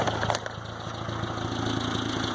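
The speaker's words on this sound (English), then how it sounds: "That's its RPM at idle, normally." A Geo Tracker 1.6 engine idles with a steady low rhythmic chug and a few sharp clicks near the start, moderately loud and close with no talking.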